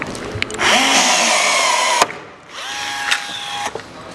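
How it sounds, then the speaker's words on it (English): A rivet gun whirs loudly as it sets a rivet into a Tundra GFC camper roof during a roof rack install, with two sustained pulls separated by a sharp snap and a short pause. "Take your rivet gun, push down, sucking it to the roof"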